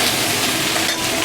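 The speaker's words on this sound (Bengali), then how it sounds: "এবারে আমি কিন্তু এই আলুগুলো দিয়ে নেব। আলুগুলো একটু অল্প করে ভেজে নেব।" Potatoes fry in hot oil in a Bengali kitchen, giving a dense, steady sizzle that stays loud and even throughout the brief moment.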